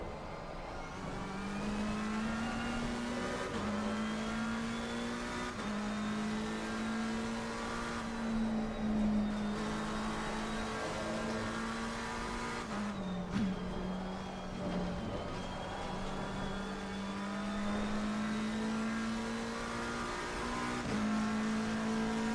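Race car engines at Watkins Glen in Assetto Corsa Competizione, a steady close-up engine drone rising and falling through gear changes, with other cars audible around it and no talk.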